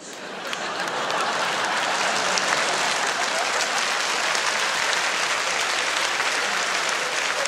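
Steady dense applause from a large comedy-show audience, loud and close, rising quickly and holding for several seconds with no pause.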